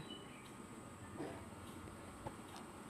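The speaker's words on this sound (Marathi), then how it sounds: "ही आहे आमची ट्रेन" A steady low rumble of a MEMU passenger train at a station, with faint clanks and a couple of brief knocks, heard close by without any voices.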